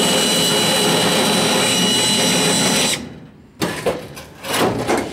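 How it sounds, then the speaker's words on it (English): A power drill with a bit works at rust on a VW double cab, whining steadily and loudly for about three seconds, then stopping, followed by a few short bursts. "So I can try the drill bit deal again"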